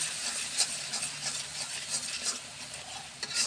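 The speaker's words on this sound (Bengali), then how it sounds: "এখন আমি সবগুলো একসাথে মিশিয়ে নেব।" Chili, turmeric and cumin powders are mixed together in a hot pan with a steady scraping stir over a soft, continuous sizzle, close and without pause, and no one speaks.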